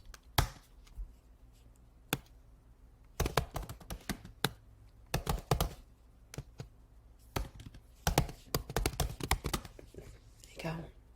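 Bursts of typing on a computer keyboard, clusters of quick clicks separated by pauses, close and moderately quiet, with a faint low background hum.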